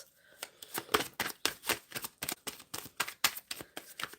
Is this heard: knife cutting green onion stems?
no